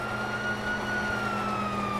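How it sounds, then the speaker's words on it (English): A wailing police siren in GTA 5 sweeps slowly in pitch over a steady low engine drone, fairly distant and with no one talking. "you hear that? Sirens!"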